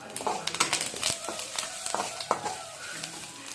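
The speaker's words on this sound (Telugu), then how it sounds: "కొద్దిగా పసుపు అలాగే కొంచెం కారపొడి అవన్నీ వేసుకొని కొంచెం వేయించాలి" Turmeric and chili powder frying in hot ghee, a soft steady sizzle with scattered crackles and pops, close and moderately quiet, with no talking.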